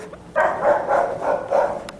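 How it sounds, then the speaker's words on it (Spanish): Several dogs barking out in a residential neighborhood, a series of four or five rhythmic barks at moderate distance, fairly steady and continuous with no talk over them. "Hay perros en el barrio."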